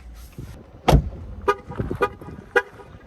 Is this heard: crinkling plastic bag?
no